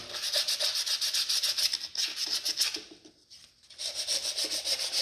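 Sandpaper or emery cloth scrubs back and forth over an engine cylinder head being cleaned for reassembly, a close, steady rasping rub with a brief pause before resuming.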